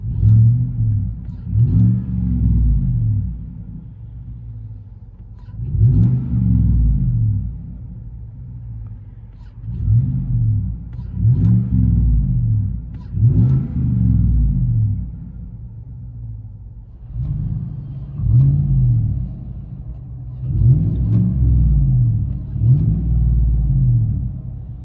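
Inside the cab of a Chevy Silverado 5.3L V8 fitted with a high-flow catalytic converter, the engine idles with a low steady rumble and is revved in repeated short bursts, one after another.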